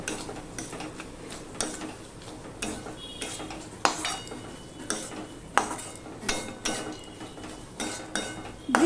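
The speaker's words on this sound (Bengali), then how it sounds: "আমি ভালো করে নেড়ে চেড়ে নেব" Banana flower curry with raw peanuts being stirred in a pan, a close series of spatula scrapes and clanks against metal with regular knocks, loud and alone without talk.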